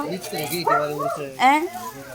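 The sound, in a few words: dog barking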